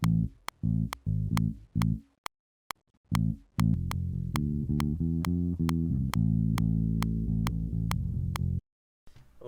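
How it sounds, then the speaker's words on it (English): A sampled bass guitar riff from a rock band, sounding as a run of short, punchy repeated notes that gives way to a longer sustained, rhythmic stretch, played loud and alone with no voices. "The actual sample for the bass that Jacob sent me sounds like this"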